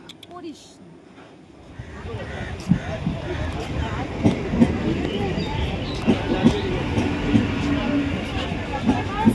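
A train pulls into Biliaghata station on the Barasat–Hasnabad line, its low rumble rising after a quiet start and rolling on steadily with rattling clacks and faint voices around the platform.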